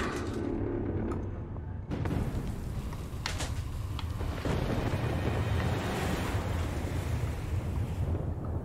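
Fire burning in Layers Of Fear 2, a broad whooshing roar that swells in sharply and keeps rushing steadily, with a few crackling flares along the way.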